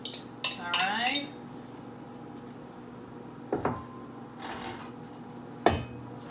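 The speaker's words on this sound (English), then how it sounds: "I'm just gonna mix with my fork until all that butter gets soaked up by the dry ingredients" A fork scrapes and clinks against a bowl while stirring melted butter into dry tart ingredients, with a few sharp metallic taps and scraping bursts spaced out amid quiet gaps.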